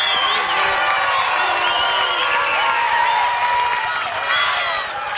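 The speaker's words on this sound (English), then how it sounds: "A nice round of applause." Race crowd at Waterford Speedbowl applauding and cheering after an SK Modified feature, a loud, dense wash of clapping, whoops and shouts that holds steady throughout.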